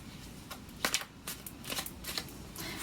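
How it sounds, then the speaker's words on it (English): Tarot cards shuffle up close in soft, quick bursts of riffling and sliding, with no voices. "But I shuffle in front of you so you can also see"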